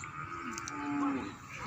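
Cattle at a livestock market, one close, drawn-out low moo rising and falling over faint background noise, with no talk.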